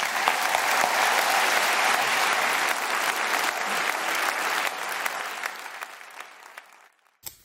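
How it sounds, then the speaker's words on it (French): An audience at a Talents sur Saône show in the Grand Espace of the Espace des Arts applauds a comedian. Dense, close clapping fills the hall, then thins out and stops near the end. "je vous demande de l'applaudir"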